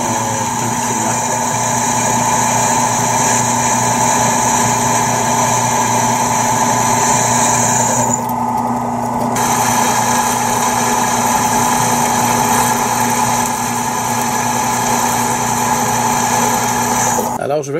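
Electric drill boring holes through a camera mount, a steady loud whine held at constant pitch with a short dip midway, then spinning down at the end.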